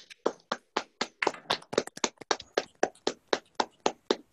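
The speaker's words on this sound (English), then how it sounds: "So I just want to do one more round of applause with everyone for this wonderful group" Applause from participants on a Zoom poetry reading comes through as a steady run of separate claps about four per second, close and evenly paced, with no voices over it.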